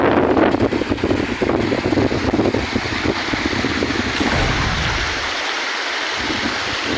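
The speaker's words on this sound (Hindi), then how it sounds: "देखो झरना।" A waterfall roars steadily on a rainy-weather outing, a loud broadband rush mixed with wind buffeting the microphone, easing slightly toward the end.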